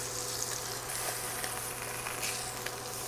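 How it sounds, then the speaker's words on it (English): Pork chops sear in a hot pan with a steady, loud, dense sizzle and crackle that holds even throughout, with no talking over it. "Now we're going to let them sear in here for a few minutes until they get nice and golden brown on the bottom side"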